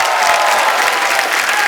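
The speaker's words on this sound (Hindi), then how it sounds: "तो तालियां और तेज हो जाएगा" Studio audience applause on The Kapil Sharma Show, a TV comedy program: a dense, loud, continuous roar of many hands clapping, close and even throughout the short burst, with no speech over it.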